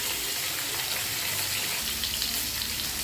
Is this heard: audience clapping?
no